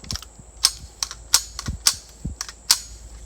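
Five or six sharp, fairly quiet .22 shots come in quick pairs from a Ruger 10/22-style rifle fitted with a Franklin Armory binary trigger, each crack short and snappy with no voice.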